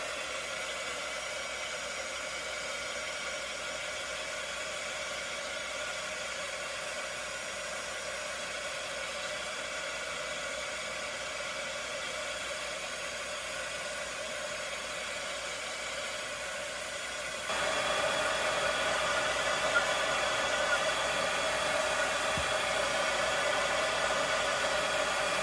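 Hair dryer drying a craft project, a steady whooshing blow that runs continuously and alone, stepping up to a louder, brighter setting partway through and holding there to the end.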